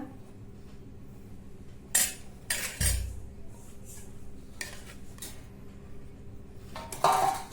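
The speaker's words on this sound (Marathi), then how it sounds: "आता ही खिशी आपण या भांड्यातून काढून घेऊया" A spoon scrapes and clanks against a metal pot in several separate bursts as cooked jowar (sorghum) khichdi is scooped out, with quiet pauses between the scoops.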